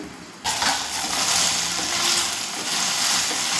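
Okra frying and softening in a pan for a tamarind stew gives off a close, steady sizzle and bubbling hiss that starts abruptly and continues evenly, with no voices.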